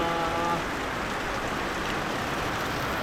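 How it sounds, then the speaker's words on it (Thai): Rain falls steadily and heavily around a Thai village, a dense continuous hiss from start to finish, with a faint voice near the start. "บรรยากาศมื้อนี้ฝนตกแห้งเลยพี่น้อง"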